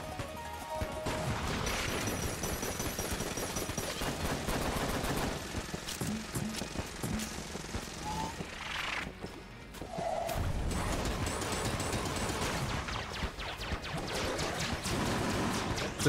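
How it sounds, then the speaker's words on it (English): Sustained rapid-fire shooting in the video game Enter the Gungeon, a dense loud barrage of gun sounds running almost without pause alongside game effects, with no talking. "We just gotta keep shooting."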